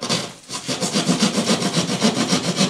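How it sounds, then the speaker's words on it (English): A plasterboard saw cuts through plasterboard while a corner cutout is made during solid wall insulation work, giving about a dozen steady, rhythmic rasping strokes that are close and fairly loud. "plasterboard knife, like a saw or a plasterboard saw"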